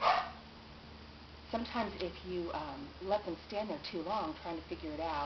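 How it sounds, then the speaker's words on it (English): A dog barks and yips a few times early on, then a person talks steadily over the background. "Sorry about the barking."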